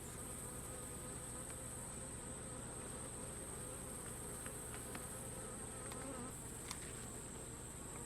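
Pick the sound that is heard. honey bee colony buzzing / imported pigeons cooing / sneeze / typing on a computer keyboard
honey bee colony buzzing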